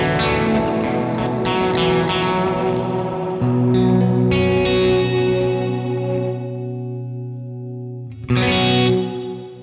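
Electric guitar played through a Wampler Catacombs delay/reverb pedal, with the delay rolled back so the hall-style reverb stands alone; sustained chords ring into a long wash of tail, then a fresh strum rises near the end.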